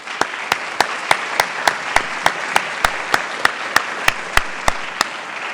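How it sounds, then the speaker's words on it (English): A conference audience applauds a panel after an ocean-based carbon dioxide removal session. Steady close clapping fills the room, with loud, sharp, evenly spaced claps standing out in a brisk rhythm throughout. "We give a round of applause to the panel."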